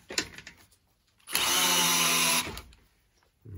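An Einhell TE-CD Li BL cordless drill drives a wood screw in one loud, steady whine lasting about a second, with faint clicks and handling noise before and after.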